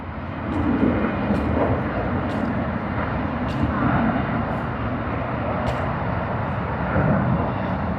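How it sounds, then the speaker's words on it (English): Cathay Pacific Boeing 777-300ER jet at Sydney Airport, a steady broadband engine roar held at moderate loudness throughout, with faint higher whines drifting over it and no talk. "Cathay Pacific, Boeing 777-300ER"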